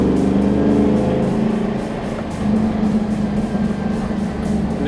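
A 1966 Mercury M250 crew cab truck with a GT500 engine rumbles along in a deep, loud, steady drone, the engine note dipping and swelling as it drives, close to the listener.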